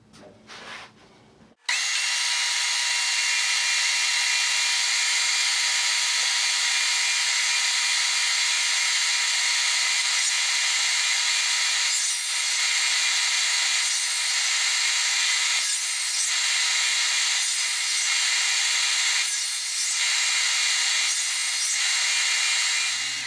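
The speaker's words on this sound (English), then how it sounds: "we're going to pass it through the drum sander and try to level this off perfectly" A drum sander flattening a wooden segmented bowl, a steady loud whirring hiss that starts abruptly after a short lead-in and runs continuously with slight dips as the wood passes through.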